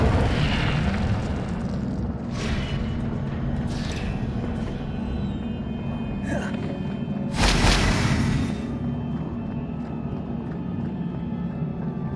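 Fire spells cast in Hogwarts Legacy burst out as a few whooshing, roaring blasts, the loudest near the end, over a steady rumbling game background.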